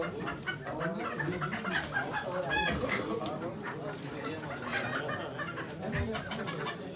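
Chickens and roosters at a poultry auction in Ankara cluck and squawk repeatedly among a crowd, with one sharp crow-like call midway, while people talk in the background.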